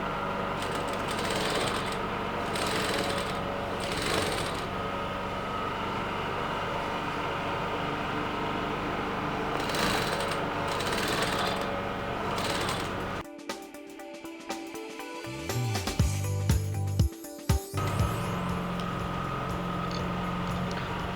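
Sewing machine stitching the side seam of a sutana sleeve, running from the sleeve join through the underarm and down the side, a steady continuous mechanical whir with a rhythmic clatter that stops and restarts in short bursts near the end.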